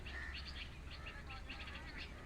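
Small birds chirp and tweet outdoors in a steady, faint chorus of short high calls, with no voices over them.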